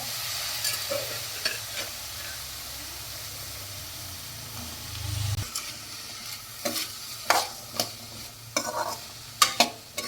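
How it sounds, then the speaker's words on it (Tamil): Boiled chickpeas stirred into sautéed onions in a pan: a low sizzle hums under a rumbling scrape, then a quieter hiss with a run of sharp, close clinks and scrapes from the stirring spoon. "கடலையை போட்டு வெங்காயத்தோட மிக்ஸ் பண்ணி எடுத்துக்கலாம்"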